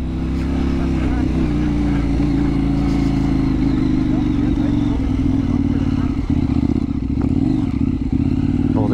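A KTM 890 Duke R motorcycle ridden over the Cumbrian mountain passes, its engine droning loud and steady throughout with heavy low rumble and wind roar, close and continuous with no letup.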